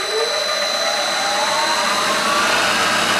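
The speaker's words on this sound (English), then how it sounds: "this is 60 hertz on the VFD, runs the mill at about 3500 RPMs to a 1 second stop." Milling machine spindle driven by a VFD at 60 hertz, around 3500 RPM, braked with DC braking and a big resistor, a loud steady whine and motor hum winding down in pitch.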